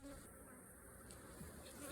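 Honey bees buzz softly in a continuous hum during a calm hive inspection. The sound is faint, close and steady, with a few light knocks and no talking.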